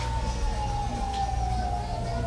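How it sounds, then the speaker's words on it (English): A single siren wails in the distance, its steady tone sliding slowly downward over a low rumbling background. "Sounds like sirens."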